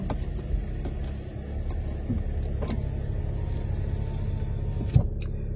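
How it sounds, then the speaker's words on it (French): A steady low rumble fills a moving car's interior, road and engine noise droning on evenly with a brief knock near the end. "Bon, on est en voiture"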